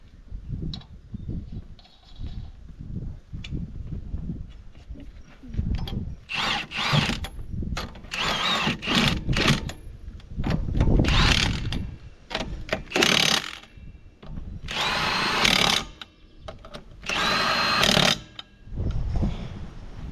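A battery impact driver fastens a new greased bolt during a hay-cutting machinery breakdown repair, with bursts of rattling, hammering whirs separated by pauses, loud and close.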